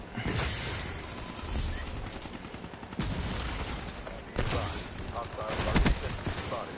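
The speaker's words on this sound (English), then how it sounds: "I shoot this guy with a full clip." Gunfire rattles through a PS4 shooter game in several loud, sharp bursts, separated by brief lulls and mixed with mechanical clatter.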